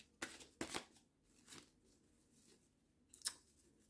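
Tarot cards being shuffled by hand: a few soft riffling, crisp flutters at irregular intervals, close and quiet with nothing else in the background.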